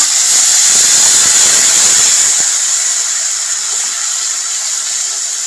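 Green chili and ginger paste sizzles steadily in hot oil, a loud bright hiss that eases slightly toward the end, for a restaurant-style paneer butter masala.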